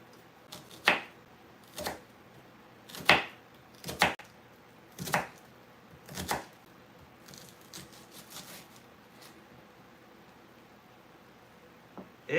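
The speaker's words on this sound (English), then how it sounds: "This is a shallot. So I'm gonna cut her up." Knife chopping a shallot on a cutting board, about eight crisp, evenly spaced cuts over quiet background, close and fairly faint, with a few lighter taps toward the end.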